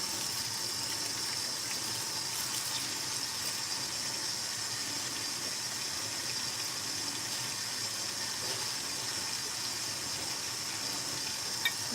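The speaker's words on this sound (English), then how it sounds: "Just washing some dishes, nothing fancy." Dishes being washed under a running kitchen tap, a steady, even hiss of flowing water with faint clinks, continuous and fairly close throughout with no voices.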